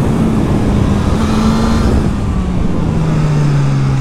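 Suzuki GSX-S1000 2021 motorcycle engine held under throttle, a steady loud drone with a low hum that slowly sinks in pitch, wind rush over it, no voices.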